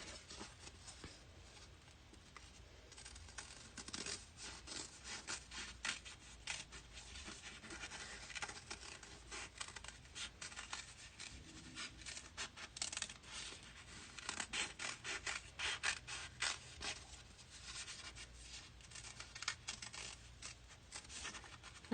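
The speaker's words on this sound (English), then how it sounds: "So I'm just going to kind of cut these out." Scissors snip out scrap pieces of fusible web for a strawberry basket quilt block appliqué, giving a quiet, irregular run of close crisp cuts and paper rustles over about twenty seconds with no talking.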